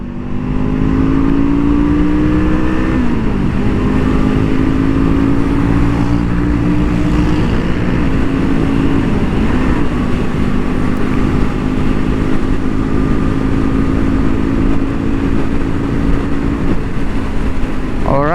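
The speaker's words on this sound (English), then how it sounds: "nice sound of the exhaust" A 2023 Honda CL 500 motorcycle pulls hard in third gear on a racing track, its exhaust droning loud and steady as the engine note climbs with wind roar throughout.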